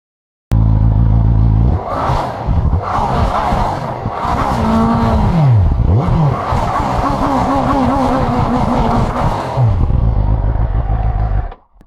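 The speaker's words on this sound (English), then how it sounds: "First, let's listen to the sound of the Kove." A Kove 450 RR motorcycle, not yet de-restricted, revs in neutral: loud, close engine note rising and falling through several throttle blips, with held revs and quick drops, running continuously for about eleven seconds without talk.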